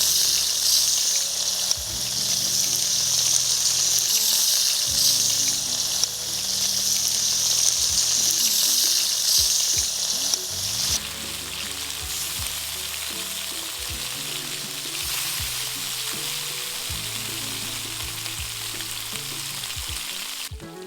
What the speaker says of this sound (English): once you drop it onto the wok, you don't move it around, okay? You let the heat do the work. Let it put some color onto the pork.